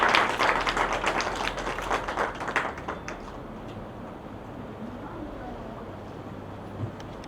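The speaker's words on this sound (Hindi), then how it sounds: "जोरदार तालियों से स्वागत कीजिए।" Clapping from the audience at a mushaira and kavi sammelan welcoming the district collector during a guest felicitation and book launch, dense claps strongest at first, then thinning into a quieter murmur of the hall.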